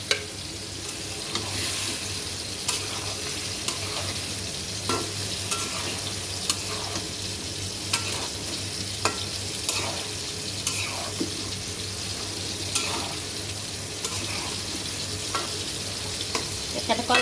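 Green banana pieces fry and get stirred in a pan for a fish curry, a steady loud sizzle running throughout with repeated scraping strokes of the spatula.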